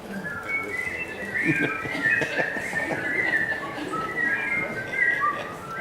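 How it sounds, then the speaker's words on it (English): A church audience whistling the Andy Griffith Show opening tune together, a sustained, wavering chorus of many whistlers filling the room at moderate loudness. "I bet that everyone here can whistle that opening tune"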